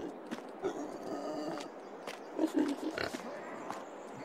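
Pigs grunting and oinking in a farming video game, set in a new pen on the Ashton Corners map, with short snorts scattered across the clip and a louder cluster near the middle amid light footstep-like game sounds.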